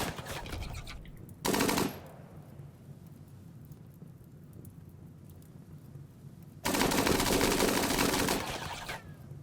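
Guns blaze in the Rimworld video game in two loud bursts of sustained rapid fire, separated by a quieter stretch of low background rumble.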